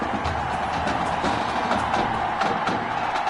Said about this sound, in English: A big-time play that gets a roar from this crowd